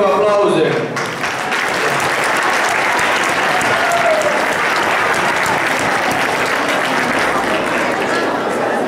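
Sustained applause from a large crowd at an Easter dance performance, loud and dense, continuing steadily throughout after a brief quieter moment at the start.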